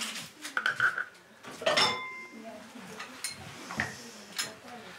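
Dishes being picked up, with several bright clinks and clatters of crockery and cutlery in irregular bursts, close by, plus a faint voice in the background.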